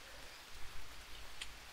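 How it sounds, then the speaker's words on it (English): Rain falls in the jungle survival game Green Hell, a soft, steady hiss of droplets that stays faint and even throughout with no voices. "And it's raining."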